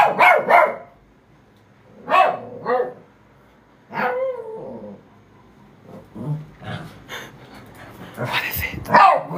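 An indoor dog barks in loud, close bursts, with sharp barks and some whimpering yips separated by brief pauses, and a person's voice may be mixed in.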